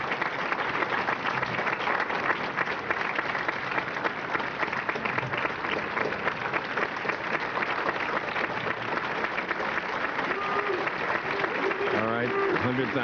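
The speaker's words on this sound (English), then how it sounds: "Let's applaud him here in the house." A dense, sustained wave of audience applause fills a 1994 bowling Tournament of Champions hall, with a voice talking faintly through the final seconds.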